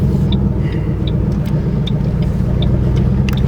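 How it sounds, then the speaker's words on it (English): A car drives along the road with a loud, steady engine and road rumble from inside the cabin, along with a few faint high ticks. "but the car is moving."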